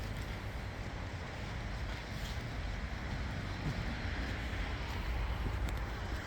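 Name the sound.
wind blowing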